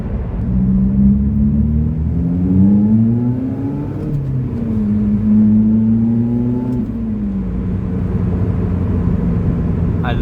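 A loud Lotus Elise engine revs and roars through a tunnel, its pitch climbing and falling across several gear changes with booming echo, heard close from inside the car.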